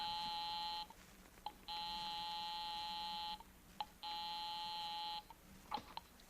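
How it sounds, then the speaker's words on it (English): A house phone rings the line in an old suspense radio drama, giving three long electronic buzzing tones spaced by short pauses, fairly faint and with no talk over them. "I'll give 9B a ring first on the house phone."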